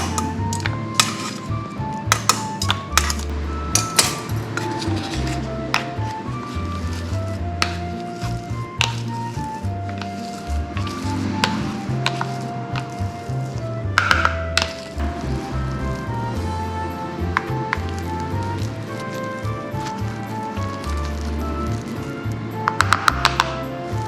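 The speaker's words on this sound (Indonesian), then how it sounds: "sekarang saya bakal ngalusin kentang sama wortelnya" Boiled potato and carrot being mashed smooth while still hot, for homemade frozen baby food, a continuous run of squishing, tapping and clinking utensil strokes against a bowl, loud and close with no talk.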